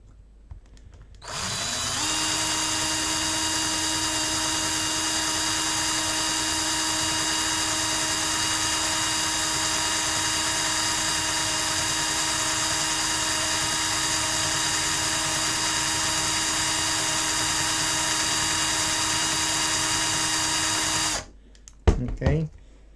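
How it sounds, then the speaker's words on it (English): A power drill runs steadily for about twenty seconds while working on a Nintendo 3DS charging port repair, a loud continuous whine with a high harmonic tone, starting abruptly and stopping near the end, followed by a few clunks. "So we need this to be still drilled. And now keep on going."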